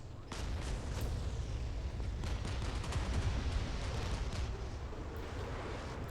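Battleship main cannons fire in a naval video game, a heavy continuous rumble of booming shots and blasts that rolls on after a sudden onset, with a few sharper cracks on top.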